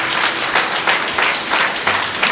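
A church congregation claps together during a Telugu sermon, a steady broadband wash of applause with rhythmic surges about every third of a second, fairly loud and close, with no voices on top.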